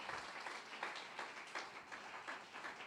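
A church congregation applauds during a Spanish-language sermon, a faint, distant, steady patter of many hands clapping that carries evenly from start to finish with no voices over it.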